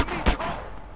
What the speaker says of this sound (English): Yeah, it's a gun.